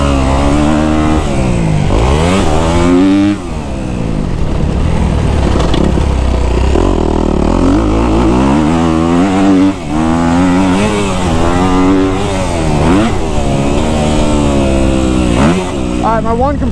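Kawasaki KX250F dirt bike engine revving loudly and continuously up close, with rising and falling pitch sweeps as the throttle is blipped, a voice talking over it throughout.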